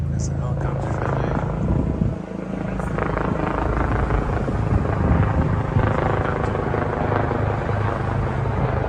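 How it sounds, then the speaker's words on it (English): A helicopter flies overhead at night, its steady rotor drone loud and continuous throughout, with people talking underneath. "There's a helicopter filming."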